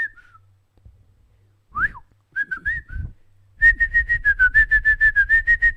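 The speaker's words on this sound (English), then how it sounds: "Is everybody in the chat whistling now?" Whistled notes come first in short scattered phrases, then a steady run of rapid, evenly repeated whistled tones, fairly loud and close.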